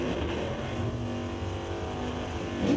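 1967 Chevy drag race car at a strip in a Super Shifters class, engine holding a loud, steady throaty rumble with a slight rise at the end.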